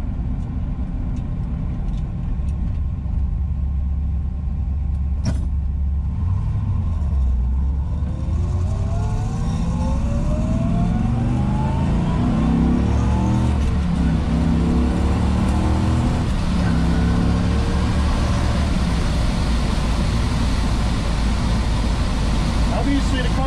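A fuel-injected 327 V8 engine in a 1962 Chevrolet Corvette idles and revs steadily, its pitch rising and falling through several throttle blips, with speech faintly present throughout.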